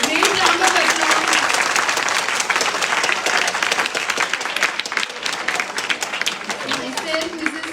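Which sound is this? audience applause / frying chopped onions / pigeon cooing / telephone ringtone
audience applause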